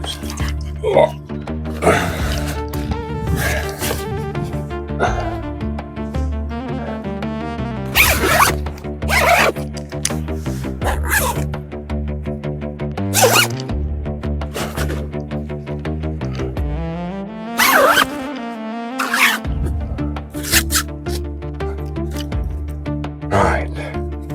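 Repeated close zipper pulls, loud and rasping, come in several bursts while zipping up fishing gear during a carp session, with a voice talking between them.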